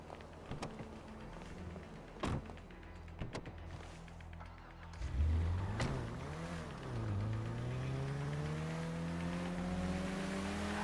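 A car in GTA V pulls away and accelerates, its engine note climbing steadily through the gears and then holding a sustained drone, with a few sharp knocks and impacts early on and no talking.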